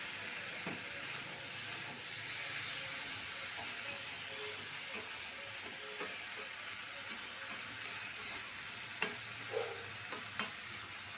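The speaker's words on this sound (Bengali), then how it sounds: "বেশ কিছুক্ষণ মিনিট 10 কিন্তু এইভাবে ঢাকা চাপা দিয়ে দিয়ে লাউটা সুন্দর করে কষিয়ে নিতে হবে" Bottle gourd sautéing in a pan, a soft continuous sizzle and hiss with a few faint clicks and scrapes of stirring, quiet and close, with no talk.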